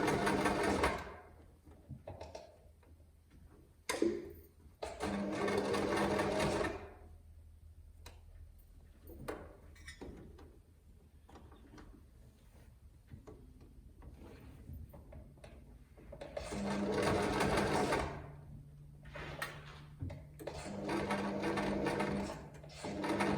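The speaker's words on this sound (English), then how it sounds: "Going super slowly over those darts because we're sewing through a lot of layers through the hood" A sewing machine stitching slowly through thick layered darts on a cape hood, running in a few close, steady bursts of rapid ticking separated by quiet pauses.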